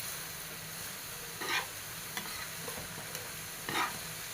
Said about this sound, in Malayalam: പാകത്തിന് ഉപ്പ്, ഒന്ന് ഇളക്കി കൊടുക്കാം.